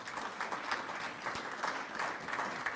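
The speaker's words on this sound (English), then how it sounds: "round of applause, please, for our Community Media Center keeping us all connected" Attendees at a Chamber of Commerce county budget event clap for the community media center, a fairly quiet, even patter of applause from a modest room.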